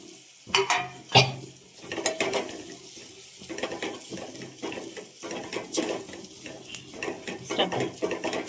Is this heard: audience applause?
no